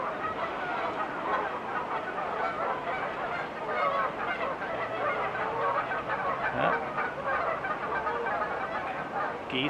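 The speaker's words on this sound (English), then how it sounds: "Geese, as always, arguing amongst themselves." Geese honk and squabble continuously in a noisy group outdoors in Reno, Nevada, with a brief spoken word over the flock.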